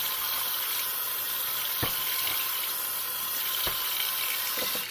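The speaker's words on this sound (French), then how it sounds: "Pas besoin de mettre une tonne d'eau." Water pours and gushes steadily into a container, a continuous close splashing flow lasting the whole stretch, with a few faint knocks, while preparing stones for a rolling tumbler in -30 °C cold.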